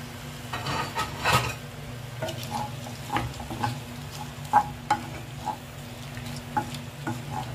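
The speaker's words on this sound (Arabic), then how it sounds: "احنا كده هنا هنبدا نشوح كله" Fish and shrimp stir-frying in a pan with a light sauce on a gas stove, a soft, steady sizzle under irregular clinks and scrapes of stirring, close by and moderately quiet, with no voices.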